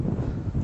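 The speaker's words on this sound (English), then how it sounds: "It is windy today." Gusty coastal wind near Snettisham Jetty buffets the microphone in a low, rumbling roar, steady and close, with no other sounds.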